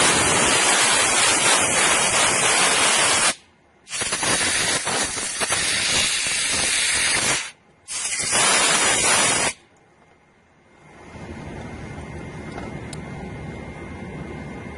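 Compressed air blowing out a common rail diesel injector, three loud close bursts of harsh hiss separated by brief pauses, followed by a quieter, steady airy hiss.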